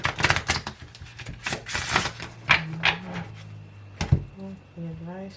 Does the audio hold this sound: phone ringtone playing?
no